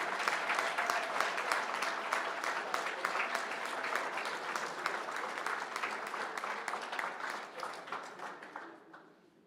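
An audience at an HBCU all-stars awards celebration gives the players a sustained round of applause, dense clapping that stays loud for most of the stretch and then tapers off toward the end.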